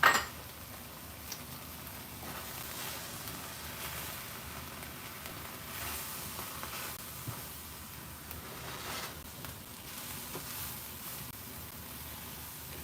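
Shrimp teriyaki stir fry with cornstarch is stirred in a pan, utensils softly scraping and clinking against the metal over a faint background sizzle, quiet and close with occasional sharper taps.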